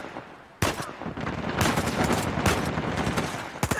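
Bursts of rapid gunfire in the video game Uncharted 4 crack loudly after a quiet start, with repeated sharp shots clustering in quick succession.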